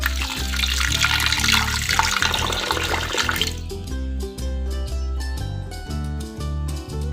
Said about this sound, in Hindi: अब हम इसमें 1 लीटर पानी डालेंगे।